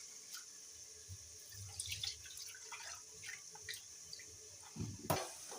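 A tap runs into a sink while ingredients are washed for a village-style crab curry, a faint steady splash with small drips and a brief louder gush near the end, heard close and alone.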